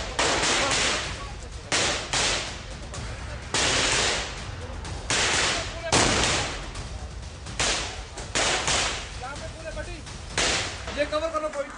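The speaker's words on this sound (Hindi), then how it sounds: "ये कवर फायर दे रहे सर, कवर फायर दे रहे" Bursts of heavy gunfire from security forces laying down cover fire in Shopian, Kashmir, repeated loud cracking volleys echoing in sequence, with excited voices talking between and over the shots.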